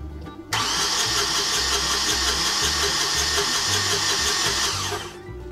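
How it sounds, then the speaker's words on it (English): An engine starter motor, freshly repaired and wired back up, cranks the engine in one continuous whirring burst of about four and a half seconds, loud and close, with a steady rhythmic churn, then stops. "Well, that's the starter working."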